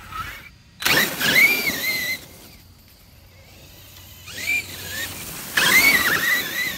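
A brushless-converted Traxxas Summit 1/10 RC truck runs past with a whining motor and gear squeal, rising in pitch in loud bursts, fading into a quieter gap and then surging again as it comes back close.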